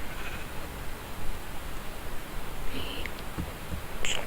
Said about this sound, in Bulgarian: и видях овца и тя вече е моя.